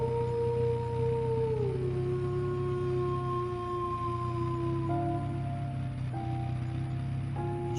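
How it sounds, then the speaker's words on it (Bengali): Distant jackal howls from a Bengali horror cartoon, long wavering tones that rise and fall and hold steadily through the clip, with no talk, heard over a night drive on a village road. "দূর থেকে শিয়ালের ডাক ভেসে আসছে"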